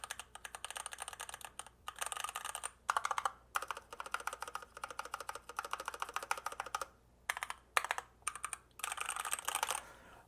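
Fast, continuous typing on a Durgod Hades 68 mechanical keyboard, close up, with crisp clacking keystrokes in bursts separated by brief pauses.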